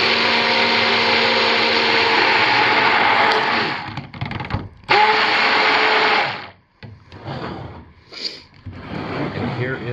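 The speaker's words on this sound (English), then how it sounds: "I should be able to have no problem blending it directly in" A blender whirs through a warm, hand-stirred blue batter in two loud bursts of steady motor noise, cutting off sharply between runs, followed by quieter handling sounds and some talking.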